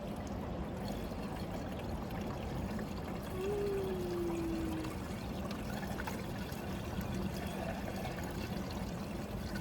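Mount Shasta spring water poured into a car's windshield washer reservoir, a steady continuous trickling stream that stays moderately loud and even from start to finish with no talking.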